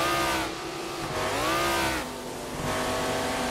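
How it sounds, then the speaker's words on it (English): A race car engine in the Wreckfest video game, with a 1990s NASCAR mod on an oval banger racing track, revs and accelerates in rising and falling sweeps, loud and close, with no talk. "Trying to get our car up to speed here"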